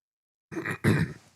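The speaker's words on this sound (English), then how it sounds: "let me clear my throat here" A person clears their throat in two short, rough bursts, close up, after a moment of silence.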